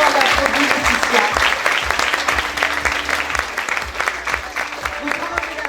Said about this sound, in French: Tout le monde applaudit Laetitia.